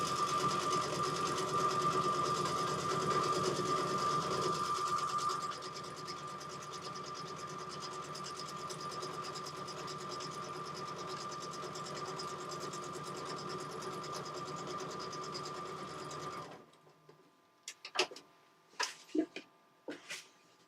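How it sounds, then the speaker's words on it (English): A domestic sewing machine runs steadily in a continuous whirring hum for about sixteen seconds, stitching forward and back, then stops, leaving a few scattered handling clicks and faint knocks near the end. "Do a couple of stitches forward, a couple of stitches back to anchor it."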